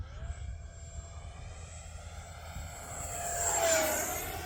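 A small Arrows L-39 50mm electric ducted-fan model jet on a 4S battery whines steadily overhead, its pitch sliding as it passes and swelling louder toward the end.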